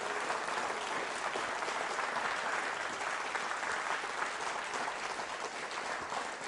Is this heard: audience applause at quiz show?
yes